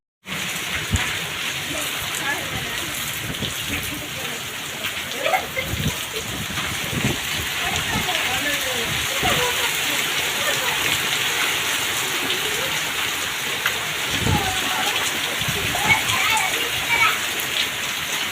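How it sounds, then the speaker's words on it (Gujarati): Steady heavy rain driven by wind in the hills, a dense continuous hiss with gusty surges and water running off, lasting throughout. "પવન સાથે વરસાદ છે, પાણી આ નીકળી ગયા છે અત્યારે ચાલુ છે વરસાદ"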